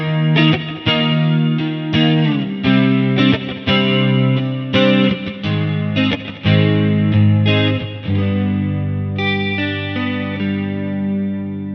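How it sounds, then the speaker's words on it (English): A clean electric guitar through a Mooer Prime M2 plays ringing chords and notes, shimmering with chorus and trailing delay echoes, loud and alone. "It's a very beautiful delay and chorusy sound."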